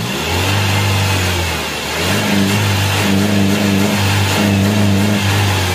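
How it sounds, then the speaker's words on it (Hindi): A car engine revs steadily and loudly, holding a raised droning tone with a slight dip and rise, while a mechanic diagnoses a mass air flow sensor fault (P0100 circuit malfunction). "हल्का सा हमने गाड़ी को रेस दी है, एक्सेलरेट किया है"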